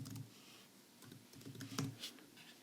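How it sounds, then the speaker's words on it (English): Quiet, quick keystrokes on a computer keyboard during spreadsheet data entry, an uneven burst of soft clicks with a few sharper taps, no voices. "type it in as you want"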